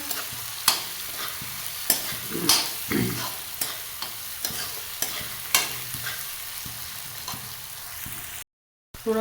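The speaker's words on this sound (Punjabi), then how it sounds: "ਹੁਣ ਆਪਾਂ ਇਹਦੇ ਵਿੱਚ ਟਮਾਟਰ ਵੀ ਪਾਣੇ ਆ ਫਿਰ ਨਾਲ ਦੀ ਨਾਲ ਮਸਾਲਾ ਭੁੰਨੀ ਜਾਏਗਾ" Tomatoes are stirred into spiced mixed vegetables frying in a pan, with a steady sizzle under repeated scraping and clanking stirs from a spoon, close and moderately loud throughout.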